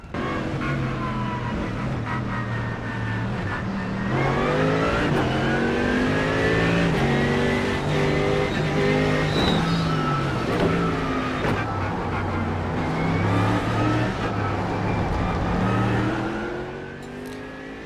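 Race car engines roar at the start of an iRacing sim race in a Porsche, many engines revving and climbing through gears together, loud and continuous, with pitch rising and falling as cars accelerate.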